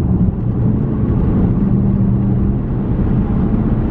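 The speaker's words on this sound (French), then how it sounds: "Attendez, je m'apprête à effectuer un dépassement." A car overtakes another vehicle on the road, heard from inside as a loud, steady low engine and road rumble with no talk.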